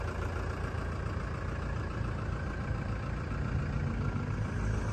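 A Toyota Hiace 4WD with a 3-litre turbo diesel engine idles steadily, a close, even low rumble with a continuous diesel clatter and no change in pace throughout.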